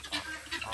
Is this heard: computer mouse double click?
no